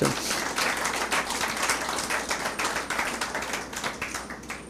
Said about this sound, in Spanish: Denme un aplauso.